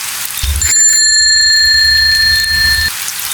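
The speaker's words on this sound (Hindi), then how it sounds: "तभी फिर वही साइकिल की घंटी सुनाई देती है" A bicycle bell rings clearly and close by on a rainy night, a single sustained metallic chime lasting a couple of seconds over a soft patter of rain.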